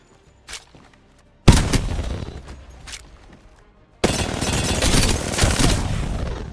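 R-99 submachine gun fire in Apex Legends, heard as a short early shot, then a dense sustained burst with rapid tail shots and a second long loud burst of continuous automatic fire close up.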